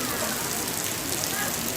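Steady rain falls in Pa'tengko, a dense, continuous hiss of drops close by with no break and no voices.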